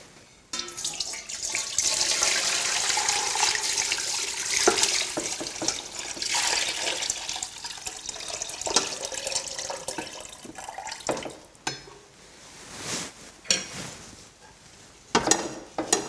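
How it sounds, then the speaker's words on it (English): Stock pours steadily into a large pot for pumpkin soup, a loud continuous rushing splash lasting around twelve seconds, then thinning into scattered trickles and a few knocks. "now I'm just going to tip my stock into the large pot"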